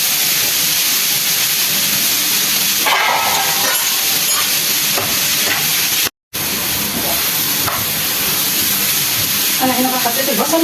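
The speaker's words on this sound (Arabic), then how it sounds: "انا طرقت البصله اهو هدلقها" Chopped onion dropped into a hot pan gives a loud, steady hiss of sizzling that runs nearly the whole time, broken once by a brief silence, with no speech.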